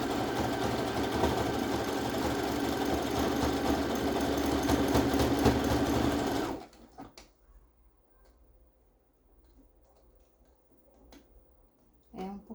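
A sewing machine runs a steady, close, loud seam on a tank top for several seconds, then stops abruptly, leaving quiet handling noises and faint clicks.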